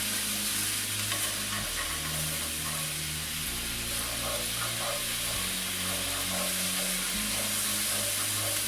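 Mushrooms sautéing in a pan alongside onion and garlic, a steady close sizzle with scattered soft stirring clicks and scrapes throughout, no talk.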